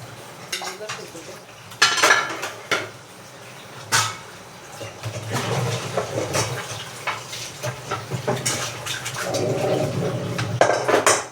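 Dishes, pots and pans being washed in a home kitchen, with repeated clattering clanks of metal utensils, scraping and running-water noise at close range, loud knocks at intervals and faint talk in the background.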